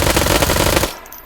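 A powerful AR rifle in H3VR fires a very fast full-auto burst of tightly packed, loud shots for just under a second, then cuts off abruptly into a short fading tail.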